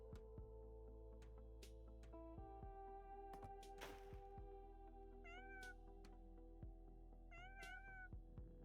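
A cat meows twice in Legitimate Space Corp, set on a run-down space station; the short, clear meows come late and sit over a quiet, sustained musical drone.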